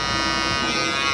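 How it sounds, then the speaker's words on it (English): An electric shaver buzzes steadily and close while being run lightly through hair during a comb-over fade haircut, one continuous whining drone with no pauses or talk. "I'm going to throw in the shaver very lightly in between the separation"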